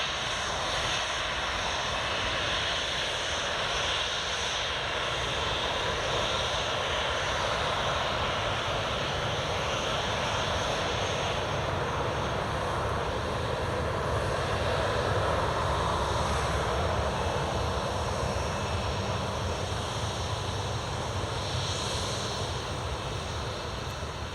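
Jet airliner engines roar at Newcastle International Airport runway 25, a Ryanair 737 departing for Ibiza, a steady loud broadband rumble held throughout at close range.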